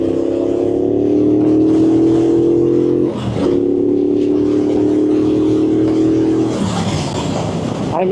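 Engine note of a 2026 Triumph Bobber motorcycle while riding, a steady loud throbbing drone that holds even, dips briefly around the three-second mark, then settles again with rushing wind.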